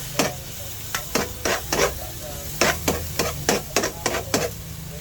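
Vegetables being sautéed for ginisang ampalaya, bitter melon stir-fry, with a low sizzle under a series of brisk spatula scrapes and taps against the pan, coming in quick clusters, close and without voices.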